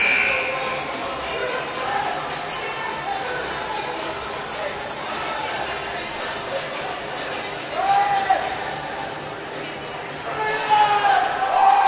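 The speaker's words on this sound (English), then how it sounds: "Pretty rowdy crowd on hand right now." Rowdy crowd in the Jenkins Fieldhouse stands during a college volleyball match, a steady roar of voices and shuffling with occasional whistle-like tones and swells, a commentator talking over it.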